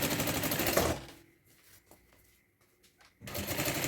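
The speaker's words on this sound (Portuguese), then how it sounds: "vou fazer um pesponto só do principal, sem pespontar o forro" A domestic sewing machine topstitches a thermal bag with long stitches, running in loud steady bursts at the start and end and pausing quietly in between.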